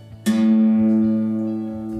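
A single guitar string is plucked once during tuning and rings out close and clear, decaying slowly over about two seconds, with faint low hum beneath and no voices.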